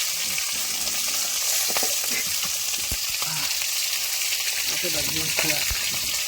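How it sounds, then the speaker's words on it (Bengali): Fish pieces frying in a pan of hot oil, a constant hissing sizzle with occasional spatula knocks and scrapes, and a voice speaking faintly over the cooking noise. "দেখো বন্ধুরা মাছ ভাজা কমপ্লিট,"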